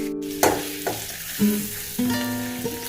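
Food sizzles in a pan with repeated scraping stirs at irregular intervals as it is sautéed for palak paneer, close and fairly loud.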